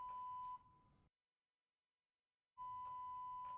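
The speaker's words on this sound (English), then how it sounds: "so we have a fire alarm." Building fire alarm sounding a steady high electronic tone in loud pulses, cutting out for about a second and a half before resuming, with no talk over it.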